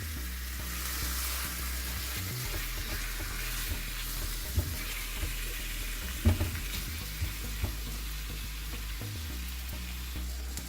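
Mutton sizzles in oil on a tawa over the flame, a steady close frying hiss broken by intermittent scraping and clinking of a spatula as the meat is stirred and turned.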